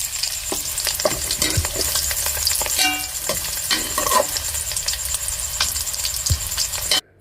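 Fish frying in hot oil, a dense, close crackling sizzle with occasional stirring clatter, steady throughout and ending abruptly, with no voices.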